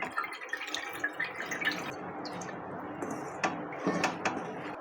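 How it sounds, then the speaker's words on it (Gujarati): Flattened rice (poha) being rinsed with added water for batata poha, giving close wet sloshing and irregular dripping splashes that run steadily through the whole stretch, with no speech. "અને આ રીતના પાણી એડ કરી પૌવાને આપણે ધોઈ લઈશું"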